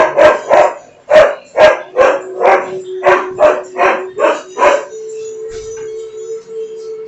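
Dogs in a house bark in a rapid run of about a dozen loud, close barks, with a steady high tone droning underneath, and then the barking stops and only the tone and faint sounds remain.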